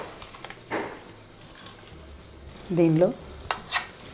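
Ladoo mixture being stirred by hand with powdered sugar, giving soft scraping and rustling strokes that rise and fall, followed by a louder, brief burst of mixing near the end, with a short spoken word heard in the background.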